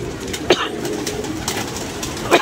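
Pigeons feeding on a rooftop with solar panels coo softly, with a few brief bird calls and wing-like bursts standing out over a steady low background murmur.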